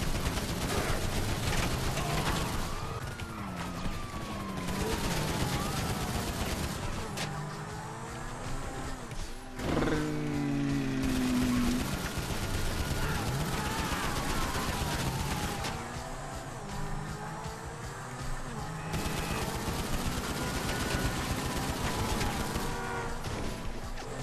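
Pistol gunfire and chaotic action in Grand Theft Auto V, with dense, loud game noise throughout including shots, engines and bursts, continuous and busy from start to end.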